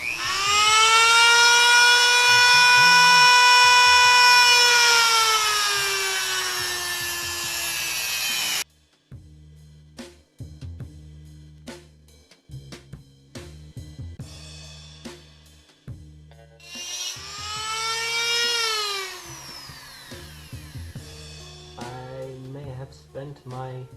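A Dremel rotary tool cuts into a metal oil filter casing during a cutaway, whining loudly for several seconds with a steady high pitch that sags as it bites, then a pause of tapping and handling noise before a second cutting burst.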